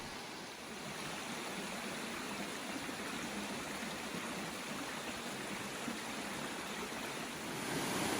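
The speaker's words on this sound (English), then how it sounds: "you'll walk along a stream for some peaceful nature sounds" A stream flows beside a flat hiking trail in Great Smoky Mountains National Park, giving a steady, even rushing wash of water at moderate level throughout, with no voices.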